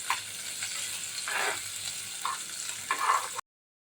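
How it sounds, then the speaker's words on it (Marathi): Roughly chopped onion sautéing in a pan until soft, a soft continuous sizzle with a few brief scraping stirs, fairly quiet and with no talking. "कांदा आपल्याला लाल वगैरे करायचा नाही थोडासा मऊ होईपर्यंत परतून घ्यायचा आहे"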